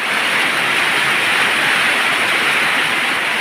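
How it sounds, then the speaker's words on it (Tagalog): Heavy rain pours down steadily at midday outside a house with a vegetable garden, a loud, dense, unbroken hiss that fills the whole clip with no voices over it. "Lakas talaga, ulan."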